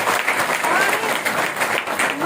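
Audience applause at a gathering at Shri Shani Dham, brief dense clapping over someone speaking, continuous for a couple of seconds.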